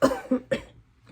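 Three quick, close coughs in a row, short and deliberate, followed by silence.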